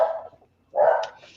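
Dog barking twice, two short sharp woofs separated by a brief pause, fairly close and clear.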